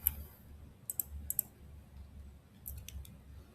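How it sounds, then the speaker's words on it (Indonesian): A few sharp mouse clicks on a computer, one single then paired quick clicks, close and crisp over a quiet room hum. "Sekarang saya klik tombol bahan ajar."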